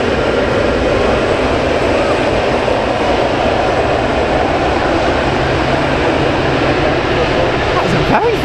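A jet airliner taxiing at Manchester Airport, heard as a steady, continuous engine roar and rumble at moderate distance throughout, with people talking over it.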